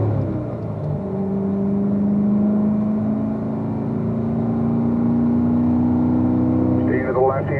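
A Corvette race car on a track, its engine holding a steady, loud drone that climbs gradually in pitch as it eases up into fourth gear, with a voice speaking over it.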